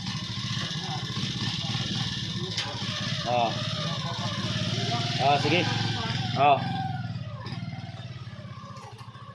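A motorcycle engine with oil rising into the head idles and runs with a steady rumble, with a few slight revs, while people talk over it nearby.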